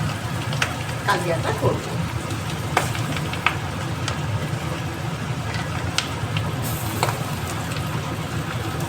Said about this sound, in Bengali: এবার আর কটা বড়া আছে ভেজে নেব